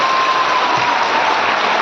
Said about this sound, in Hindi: तो एक बार जोरदार ताली बजाएं।